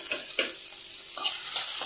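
Onions and dried chillies fry in a pan for pepper rasam, a bright continuous sizzle broken by a few scraping stir strokes, up close and with no speech.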